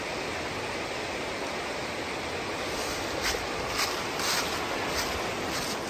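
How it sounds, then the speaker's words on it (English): A forest creek on the Appalachian Trail in the Green Mountains flows in a steady broadband rush, close and continuous, with a few brighter splashes near the end and no voices. "Oh, and there's an awesome creek,"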